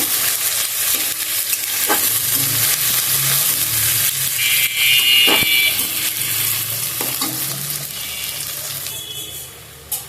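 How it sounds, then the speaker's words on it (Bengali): Chopped onion sizzles in hot oil while a spoon scrapes and stirs it around the pan, with a steady frying hiss broken by clinks and occasional rattling, heard close up with no voices. "এখানে আমি দিয়ে দিচ্ছি পেঁয়াজ কুচি পেঁয়াজটা একটু ভেজে নিব"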